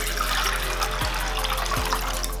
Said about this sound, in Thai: เราก็จะเอาน้ำสะอาดอันใหม่ตัวนี้นะคะเทลงไป